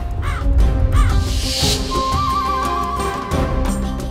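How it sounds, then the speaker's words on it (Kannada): A crow caws loudly two or three times close by, over a dense, steady background of music and ambience, with no talking. "ಆ ಮನೆಯಲ್ಲಿ ನಿಜವಾಗ್ಲೂ ಇದ್ದಿದ್ದೇನು ಅಂದ್ರೆ ಅದೇ ಆ ಕಾಗೆ ಮಾತ್ರ."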